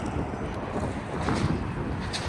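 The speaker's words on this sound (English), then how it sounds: "the wind is freaking gusting, like 30-mile-an-hour gusts or so." Steady, roaring wind gusting around 30 mph buffets the microphone with low rumbling gusts that swell slightly midway, with no voices.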